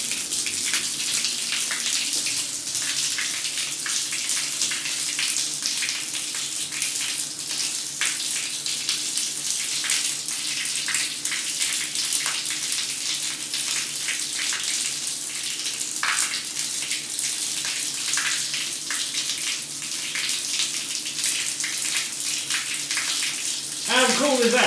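Shower water runs steadily across a tiled wet room floor toward the drain in a Swedish bathroom build, a constant close hiss and splatter that fills the whole stretch, with a voice faintly beneath it.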